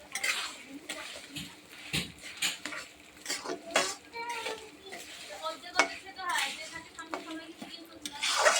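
Washed Gobindobhog rice tipped into a pot for khichuri and stirred, with repeated scraping clinks of a utensil against the metal and a faint sizzle beneath, close and fairly busy throughout.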